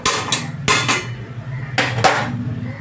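A lid lifted off a cooking pot of rice, potatoes and paneer gives a few sharp metallic clanks and clinks, spaced out over a few seconds and fairly close.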